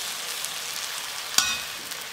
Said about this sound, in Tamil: ஸ்டவ்வை லோ ஃப்ளேமில் வச்சுட்டு ஒரு 2 நிமிஷம் நம்ம ரவையை இதோட சேர்த்து நல்லா கலந்து கொடுத்துக்கலாம்.